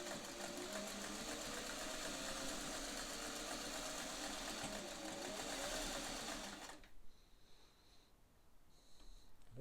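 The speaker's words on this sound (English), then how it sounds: "We're going to shorten the stitch." A Singer 400 series sewing machine runs with a shortened stitch, a steady close whirring for nearly seven seconds before stopping, followed by quieter handling noises and a brief restart at the end.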